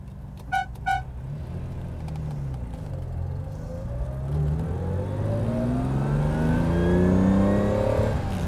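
A car engine revs and accelerates, its pitch climbing steadily and loud up close, after two short horn toots near the start.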